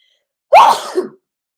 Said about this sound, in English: Isn't that weird to only have one sneeze?